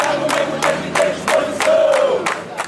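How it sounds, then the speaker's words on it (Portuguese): Flamengo football supporters protest outside the club headquarters at Gávea: a loud crowd chants with rhythmic bursts of clapping or shouting repeating about every two-thirds of a second. "mais uma vez a torcida rubro-negra veio protestar, só que desta vez, neste sábado, aqui na porta da sede da Gávea."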